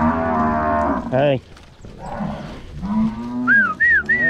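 Nelore cattle moo in several drawn-out calls, loud and close, while a man calls out to them.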